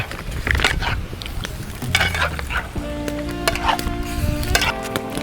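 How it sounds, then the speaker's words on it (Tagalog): Food sizzles in a hot pan while it is stirred, with a loud, close frying hiss and scraping strokes of the utensil against the pan, and no talking. "Tapos haluin mo yan."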